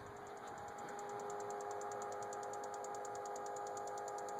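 A 2003 Dodge Ram with the 5.9 Cummins 24-valve diesel idles steadily on a cold start, a fast, regular ticking running through the whole stretch over a constant engine hum, close and alone.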